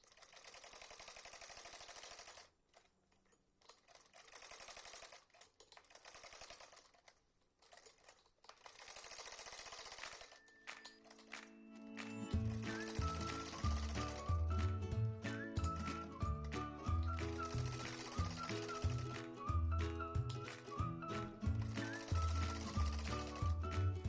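A sewing machine stitching the cuff (mohori) of a salwar, a steady rapid mechanical clatter starting partway through and running continuously to the end, close and fairly loud after quieter handling sounds.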